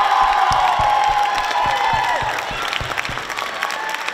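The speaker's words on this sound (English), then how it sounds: "Can we just get one more round of applause for everyone that participated today?" Audience applause after a high school talent showcase, a dense steady clatter of many hands with some cheering and shouts mixed in, while a voice talks over the clapping throughout.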